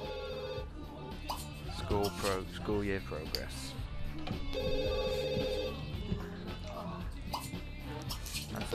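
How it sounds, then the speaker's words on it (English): A telephone ringing in the video game The Sims 2, two short electronic ring bursts separated by a pause, mixed under game music and voices talking. "That's the phone."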